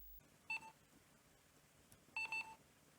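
Two short electronic beeps from a Sharp EL-620 Elsi Mate voice-synthesized calculator, a single tone near 0.5 s and then a double beep around 2.2 s, clear against a quiet hiss.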